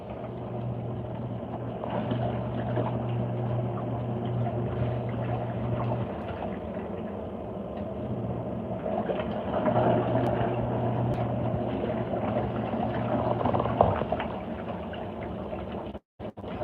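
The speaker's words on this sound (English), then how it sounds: "I do like the idea of it doing that though, pouring in the hot water while it runs." LG ThinQ MEGA Ultimate washer running a sanitary cycle on default settings as hot water pours into the drum, giving a steady rushing, sloshing fill over a low motor hum throughout, with the flow cutting off abruptly near the end.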